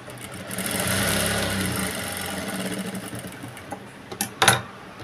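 A sewing machine runs steadily while stitching shape belts on a blouse during tailoring, a continuous mechanical whir that holds through most of the stretch before slowing, followed by a couple of sharp knocks near the end.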